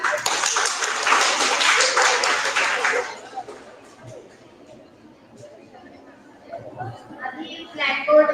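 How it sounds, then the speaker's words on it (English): An audience at a one-day design thinking workshop gives a short burst of brisk, dense clapping that lasts about three seconds, then dies away into quiet room sound, with voices and light tapping near the end. "Clap for her."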